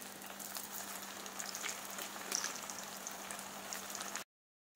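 Poha kathi sev frying in hot oil, a steady soft sizzle and crackle with a bright hiss and no talking, ending abruptly in silence.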